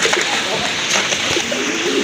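Black nun pigeons, a rare fancy breed, coo softly amid a busy loft full of other birds, with a steady bed of noise and a person talking nearby.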